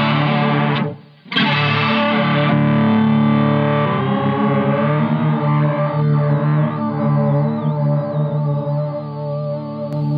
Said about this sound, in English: So sticky tape is that sort of non-linear modulation effect.